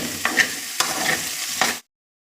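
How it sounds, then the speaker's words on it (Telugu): Okra frying in a pan, a short close sizzle broken by three quick stirring scrapes before cutting off abruptly. "బెండకాయ ఫ్రై అవుతుంది"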